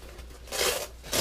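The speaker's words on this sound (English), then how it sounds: "Velcro sealed pockets" Velcro pocket on the back of a dinghy's underslung seat bag being ripped open, a broad tearing burst up close followed by a second short rip, no talking.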